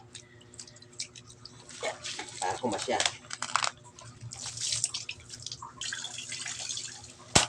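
Water splashes and trickles out of a cooler holding shrimp in uneven bursts, with sloshing and dripping; a person speaks briefly under the pouring.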